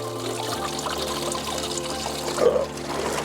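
Coolant drains from a Porsche Boxster engine in a steady trickling stream, with a low continuous hum underneath and a brief louder splash partway through; no one speaks.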